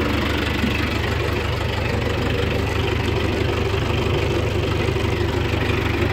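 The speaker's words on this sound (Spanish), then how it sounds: "Y pues ahí anda el tractorcito, el 5725" A John Deere 5725 turbo tractor engine runs steadily out in a field, a loud and constant diesel rumble with no change in pace and no voices.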